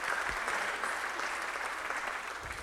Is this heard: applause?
yes